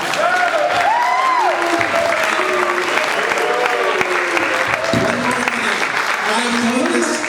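An audience at a live nostalgia convention show applauds Stu Shostak with dense, sustained clapping and some crowd murmur; voices talk over the applause throughout.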